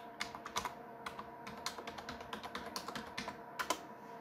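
Rapid, uneven clicks of fingers typing a password on a computer keyboard, close and fairly quiet, with small bursts and brief pauses between keystrokes, no voice over it.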